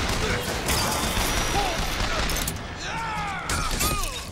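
Rapid gunfire bursts in the video game BioShock Infinite, loud and dense over chaotic combat noise with whistling and crashing effects, continuous through the clip.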